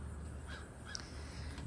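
A few crows caw faintly at a distance beside a historic Victorian farmhouse, two or three short calls over a quiet steady background hiss, with no voices.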